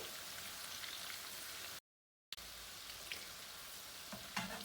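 Onions fry in hot ghee in a pan, a faint, even sizzling hiss with a brief gap and a few light stirring clicks near the end.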